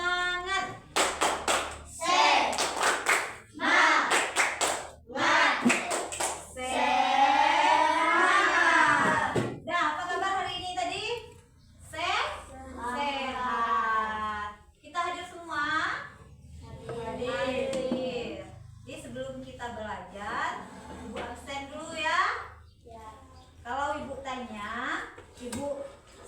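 Children in a classroom perform a rhythmic spirit clap led by a teacher, patterned claps in groups alternating with chanted call-and-response voices, close and lively.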